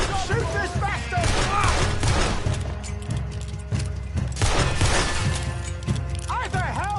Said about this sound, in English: Shoot this bastard!